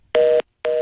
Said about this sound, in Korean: 갑자기 삐삐 소리가 나는데